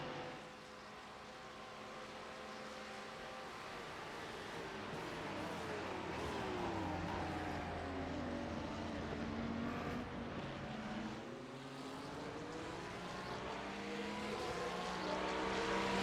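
Pink Lamborghini race car in iRacing droning past amid other cars, engine pitch sweeping up and down in a steady, moderately distant roar that swells and fades.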